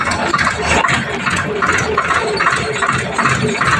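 A Swaraj tractor engine drones loudly and close while towing a Farmtrac tractor whose gear bearings broke and locked, with a rattling, uneven rumble and no speech.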